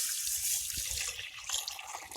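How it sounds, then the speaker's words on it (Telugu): Water runs and splashes steadily into a pot for cooking sorghum in a village kitchen, a close, continuous trickling pour like a tap, with no talking. "జొన్లు పోవడానికి నీళ్ళు పోతున్నా"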